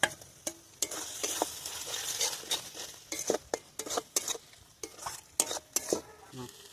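A paste of yogurt, coconut, cashew and poppy seed sautés in a pan for a jackfruit curry, with steady sizzling broken by repeated sharp scrapes and clinks of a spoon stirring against the metal, close and alone.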